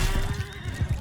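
A horse in the medieval battle game Mount & Blade 2: Bannerlord lets out a loud whinny, a sustained tonal neigh over rumbling hoofbeats and battle noise, with no talking.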